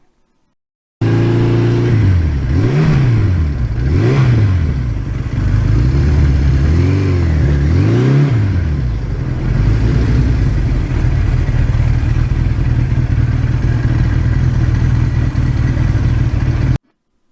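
A 1982 Suzuki GS1100E motorcycle engine is blipped through several quick revs that rise and fall, then settles into a steady, throbbing idle, close and loud, with no talking.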